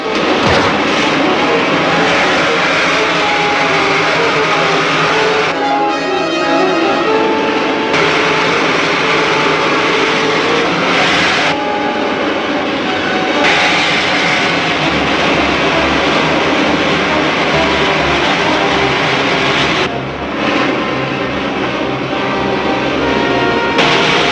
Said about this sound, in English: Fire pilot jets. Fire main jets.